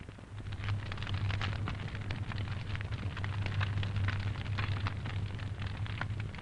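Flashover in a laboratory room fire test: a steady, dense roar of burning with scattered crackles and a constant low hum beneath, loud and unbroken throughout.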